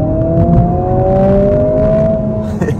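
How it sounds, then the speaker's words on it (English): A 2024 Honda Civic Si's turbocharged four-cylinder engine revs on a multi-lane highway, a loud rising tone climbing steadily for a couple of seconds before easing off, with no talking. "It revs really high for a turbocharged four-cylinder engine."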